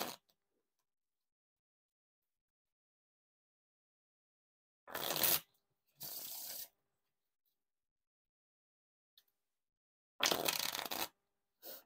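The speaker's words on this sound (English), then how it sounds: "Now for the Riffle Shuffle or Bridge Shuffle." Short bursts of riffling Bicycle playing cards, quiet and close, with long silences between three main riffle shuffles and a couple of small ticks.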